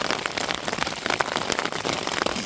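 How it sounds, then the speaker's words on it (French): Rain patters densely on a tent at a cliffside bivouac, a close, steady crackle of drops on the fabric with no voices. "il pleut."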